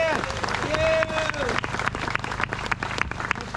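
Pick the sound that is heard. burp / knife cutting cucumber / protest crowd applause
protest crowd applause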